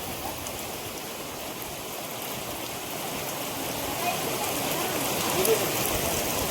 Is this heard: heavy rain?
yes